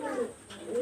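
A pigeon coos in two soft, close rolling phrases with a short pause between them, alone and without any voices.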